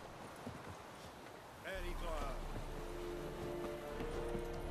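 A horse's hooves clip-clop in the Witcher 3 video game, a steady run of soft hoofbeats against a rain-like background, with a talking voice and a horse's brief whinny partway through.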